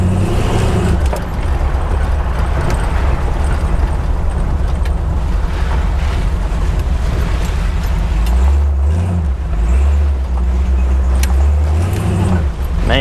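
An old brown Jeep with weak brakes climbs back up a driveway, its engine rumbling loud and close throughout, with the low drone rising and shifting pitch toward the end as it pulls up the slope.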